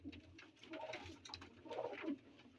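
Soft, low cooing of old high-flyer pigeons kept in a loft, repeated murmuring coos close by with faint background noise and no talk.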